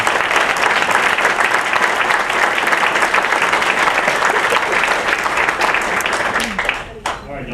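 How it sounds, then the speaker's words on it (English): At a Walton County Chamber of Commerce meeting, the audience gives a loud, full round of applause that continues steadily with voices mixed in, then fades quickly near the end. "You give all these folks a round of applause"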